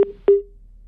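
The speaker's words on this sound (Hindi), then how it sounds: "उनका फोन कट गया" A phone call drops into a busy tone, two short electronic beeps about a quarter second apart, the second ringing on briefly, then silence.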